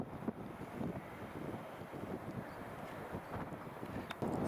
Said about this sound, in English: albeit a bit breezy